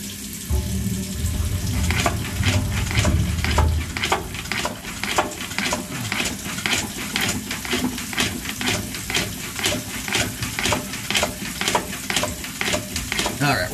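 Flush of water shooting through a drain pipe, a heavy rush at first that gives way to rapid rhythmic gurgling pulses and spatters, close and fairly loud, with no voices.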